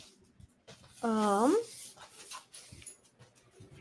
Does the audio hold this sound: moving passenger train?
no